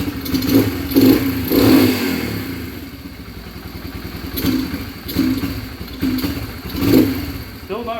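Yamaha TTR 125 LE dirt bike, mid-rebuild with a leaking carburetor, sputters and revs in repeated uneven bursts up close, the engine struggling and dropping between throttle blips, with a voice in the background.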